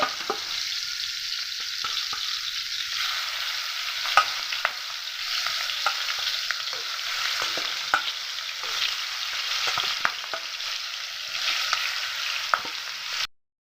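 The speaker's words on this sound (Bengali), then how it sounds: "এবারে মাংসের পিসগুলো ভেজে নেব" Chicken pieces fry in hot oil in a kadai with a dense, constant sizzle and crackle and occasional sharp pops and spatula clicks. It stays even and close throughout, with no voices, and cuts off abruptly at the end.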